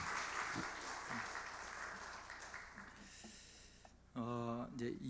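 A church congregation applauding, a dense crackle of clapping that thins and fades away, followed by someone speaking near the end.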